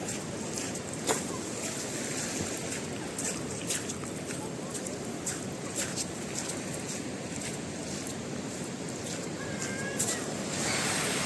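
Ocean waves at a beach in Krui, a steady broadband wash of surf with wind across the microphone, continuous and fairly loud with no clear breaks, under brief voices.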